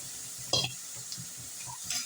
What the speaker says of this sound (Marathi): छान एक दोन मिनटं परतून घ्यायचं आहे गाजराला